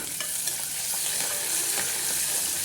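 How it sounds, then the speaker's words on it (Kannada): Onion, green chilli and curry leaves fry in hot oil, giving a steady close crackling sizzle throughout, with a few soft stirring scrapes and no voices. "ಒಂದೆರಡು ಸೆಕೆಂಡು ಫ್ರೈ ಮಾಡಿಬಿಡೋಣ ಈರುಳ್ಳಿ ಗೋಲ್ ಗೋಲ್ಡನ್ ಬ್ರೌನಿಷ್ ಬರಲಿ ಆ ರೀತಿ ಫ್ರೈ ಮಾಡೋಣ"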